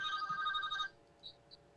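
A telephone ringtone trills steadily for just under a second in a morning radio show studio, then cuts off, followed by two faint short blips.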